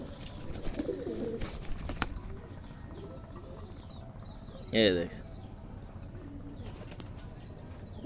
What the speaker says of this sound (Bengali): এই হলো মাদি কবুতরটা